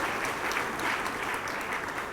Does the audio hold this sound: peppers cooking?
no